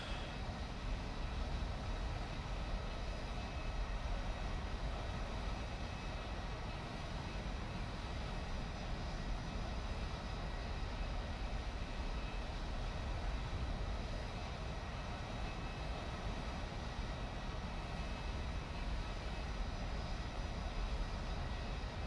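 Aircraft engines from a swarm of planes in the War Thunder combat flight game drone steadily, a dense, even roar holding at one level without pauses or speech.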